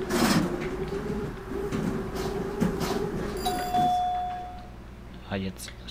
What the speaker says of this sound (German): Oh, diese Tür, Alter.